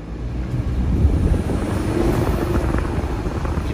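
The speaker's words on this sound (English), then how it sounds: "You can hear the turbos spool," A BMW 330i's steady, loud engine drone with the rising whine of its turbochargers spooling on top while driving, continuous throughout with some rumbling wind buffeting.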